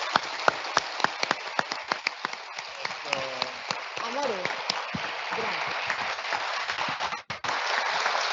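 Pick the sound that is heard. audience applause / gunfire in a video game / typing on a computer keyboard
audience applause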